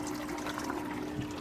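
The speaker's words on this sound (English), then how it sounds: "this auto siphon has triggered, and it's filling the sump back up" An aquaponics auto siphon has triggered, sending water pouring steadily into the sump. The flow is a continuous, moderately loud rush with a faint trickling edge and no talk over it.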